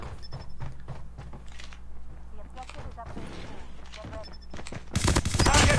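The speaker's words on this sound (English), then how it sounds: "Please stop shooting me!" Bursts of automatic gunfire ring out in a Call of Duty Mobile Hardpoint match, rapid volleys popping repeatedly over several seconds, ending in a loud, dense barrage close by, with in-game sounds mixed in.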